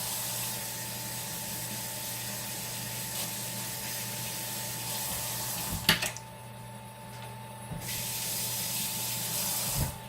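Hands rinsed under a running tap at a kitchen sink, a steady soft hiss of flowing water with a low hum beneath, briefly interrupted by a clunk and a pause before the stream resumes.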